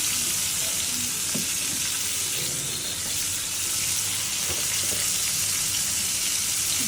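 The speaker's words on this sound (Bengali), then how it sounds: "এখন মশলাটা সুন্দর মতো কষাবো" Spice masala of chili powder, coriander powder and salt is sautéed in a pan, giving a continuous hissing sizzle with a few soft stirring knocks underneath.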